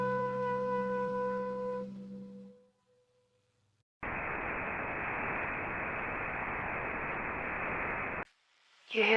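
Radio broadcast static: a steady, loud wash of hiss that starts abruptly after a fading hum and a short silence, lasts about four seconds, then cuts off.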